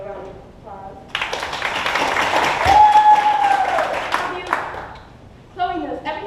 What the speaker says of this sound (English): Please give Chloe a round of applause.